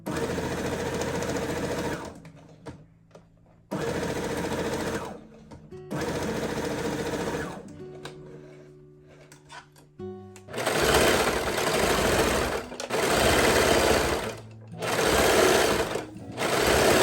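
A sewing machine stitches a nightgown sleeve in repeated bursts of steady, fast whirring, stopping briefly between runs before a longer continuous stretch of sewing near the end.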